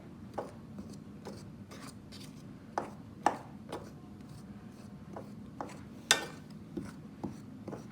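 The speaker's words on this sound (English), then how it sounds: "You want to cut it in till the shortening's like pea-sized." Crisco shortening is cut into flour with a utensil in a bowl for Southern-style chicken and dumplings, giving irregular soft scrapes and light taps up close, with a few sharper clicks and no talking.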